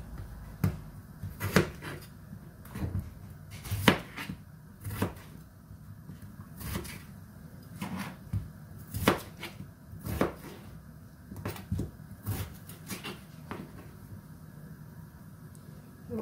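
A knife chops potatoes for a tagine with peas and minced meat, giving a steady run of crisp, close cutting knocks against a board over a low kitchen hum, with no talking.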